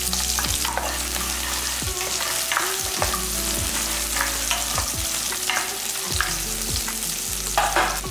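Mustard seeds, curry leaves and shallots fry in hot oil with a steady close sizzle, punctuated by regular scraping stirs of a spoon in the pan and no voices.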